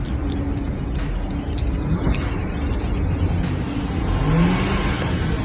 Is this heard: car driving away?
yes